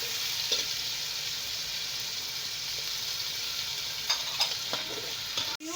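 Tomatoes and green masala frying in a pan give a steady, close sizzle throughout, with occasional light scraping and clinks of a stirring spoon.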